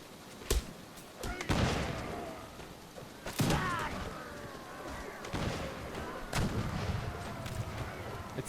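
Troops in Mount & Blade Warband fire their muskets at will, making scattered booming shots with echoing tails, spaced a second or more apart and fairly faint overall.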